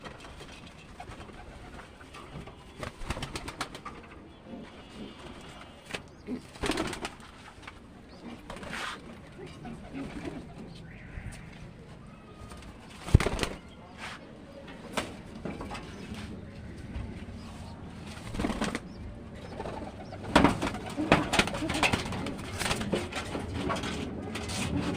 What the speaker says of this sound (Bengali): এই যে কবুতর আমরা ছাড়তেছি একটা একটা করে